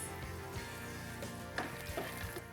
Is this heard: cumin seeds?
yes